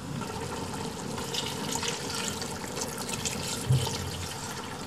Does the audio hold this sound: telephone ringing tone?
no